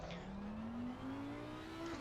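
An Audi R8 GT3 race car engine in Assetto Corsa Competizione howls loudly and continuously, its pitch rising steadily as it accelerates, with no talk.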